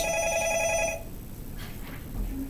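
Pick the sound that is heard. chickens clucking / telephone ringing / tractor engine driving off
telephone ringing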